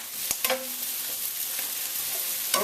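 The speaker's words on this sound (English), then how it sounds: "Steaming and sizzling. I'm going to keep it all in the pan." Food fries in a pan with a steady hiss of sizzling and steaming, broken by a few sharp spatters and stirring clicks, loud and close with no talk.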